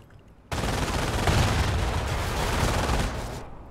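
Sustained machine gun fire from a World War II battle in Company of Heroes, a dense continuous rattle of rapid bursts that starts abruptly, holds loud for about three seconds, then fades out.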